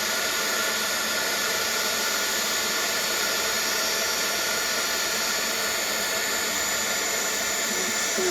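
A heat embossing tool blows hot air over silver embossing powder in a steady, loud, close hiss that holds constant for the whole stretch, with no talking.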